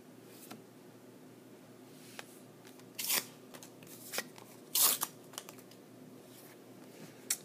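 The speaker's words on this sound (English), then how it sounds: "I'll go ahead and throw a couple more code cards in there for you." Pokémon code cards from Sun & Moon blister packs are tossed onto a pile, making a scatter of light, sharp papery slaps and flicks, faint and close, in short irregular bursts.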